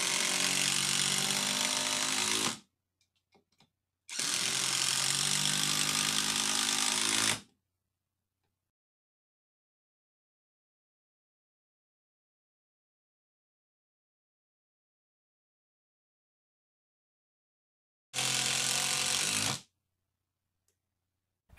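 Hyper Tough 12-volt brushless impact driver driving screws, in three loud bursts of hammering whir, the first two close together and the last after a long silent pause.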